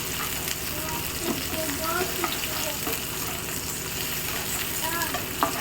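Close sizzling and frying of ingredients sautéed in a pan for a grilled fish head dish, with occasional stirring scrapes, steady throughout.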